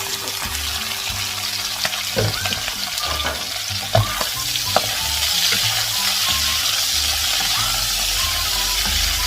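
Long beans stir-frying with pork belly in a pan over medium heat, a steady close sizzle with occasional clinks and scrapes of a spatula stirring, no voices.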